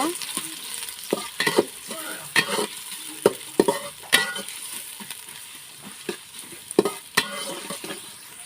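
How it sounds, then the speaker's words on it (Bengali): Chopped onions fry in hot oil with a steady sizzle, broken by repeated scraping and stirring strokes of a spatula in the pan, heard up close with no talking. "পেঁয়াজটা আমি একটু ভাজা ভাজা করে নেব।"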